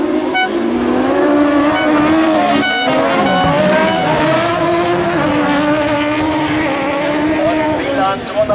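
Race cars roar through a heat of the 2010 European Championship at Seelow, their engines loud and sustained with shifting revs, under excited German commentary.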